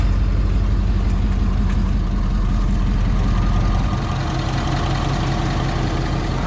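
A Ford 6.7 Powerstroke diesel V8 swapped into a 1967 truck, running at a steady low rumbling idle close by, a dense continuous throb that settles slightly deeper partway through, no talking.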